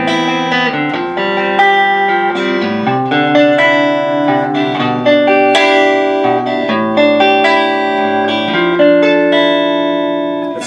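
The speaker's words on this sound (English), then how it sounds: "Playing through a Fender Super Reverb." Harley Benton electric guitar with swapped pickups played through a Fender Super Reverb amp, a continuous run of clean, ringing notes and chords with reverb, close and loud without talk.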